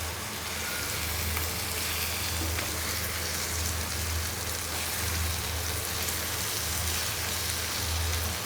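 Egg curry with bitter gourd cooks in a pan, giving a continuous, even, close crackling sizzle with faint stirring and no talking.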